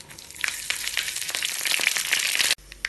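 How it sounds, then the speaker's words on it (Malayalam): Mustard seeds, dried red chillies and curry leaves hitting hot coconut oil for a pineapple pachadi tempering, a close burst of sizzling with sharp spluttering pops that swells, then cuts off abruptly. "ഒരു പാൻ ചൂടാക്കി 1 ടേബിൾ സ്പൂൺ വെളിച്ചെണ്ണ ഒഴിച്ച് 1/2 ടീസ്പൂൺ കടുകും 1-2 വറ്റൽമുളകും കുറച്ച് കറിവേപ്പില ഇട്ട് കടുക് പൊട്ടിക്കുക."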